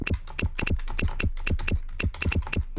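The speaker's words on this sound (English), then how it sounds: "Start typing." Quick, steady clicking of keys on a computer keyboard as someone types, the close, crisp taps coming in uneven bursts with no talking over them.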